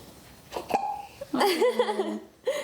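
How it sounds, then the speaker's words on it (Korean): A newborn baby gives a few short, soft hiccups spaced unevenly over a couple of seconds. Light voices and a bit of laughter sound nearby. "딸꾹질 귀여워."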